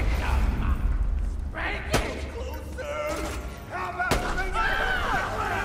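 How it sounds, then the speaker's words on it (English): A multi-bullet pistol firing in the shooter game Borderlands 2, two sharp, loud cracks a couple of seconds apart amid game effects and whooshing, with a voice talking over it. "This is shooting more than one bullet per shot."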